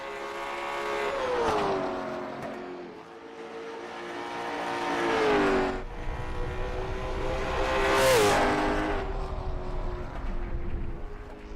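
Race cars lapping the Sunshine Derby track, engines droning and rising in pitch as they pass, with one car sweeping by close and loud near the end while others hum further off.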